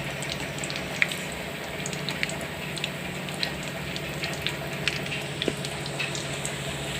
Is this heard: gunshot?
no